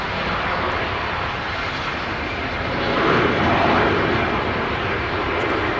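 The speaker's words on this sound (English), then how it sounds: "This British Airways A380 using quite a lot of runway." A British Airways A380 lands at Manchester Airport and rolls down the runway, a steady broad engine roar that swells slightly midway and carries on alone without talk.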